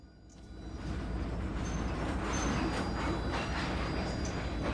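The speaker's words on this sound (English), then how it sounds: "Oh, the train's still rolling down the hill." A freight train rolls downhill on the Mojave Subdivision, heard from inside the cab: a constant heavy rumble with wheel rattle and faint squeal building in after the first second, no voices.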